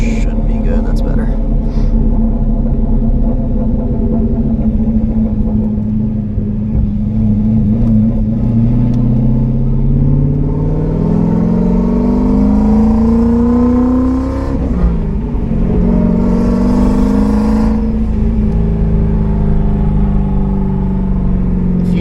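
An 800 whp single-turbo manual Ford Mustang 5.0 pulls hard from inside the car, its engine droning loudly and climbing steadily in pitch through long gears, broken by brief shifts and a second rising pull.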